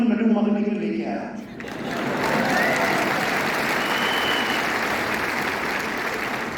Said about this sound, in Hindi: ताली बजाने की जरूरत नहीं,